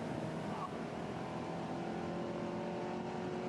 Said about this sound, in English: Let's cue up some more engine noises here for you.